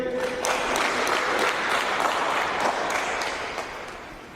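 A congregation applauds at a Catholic service during a children's baptism, giving a dense, steady wash of clapping from many hands that fades slightly toward the end.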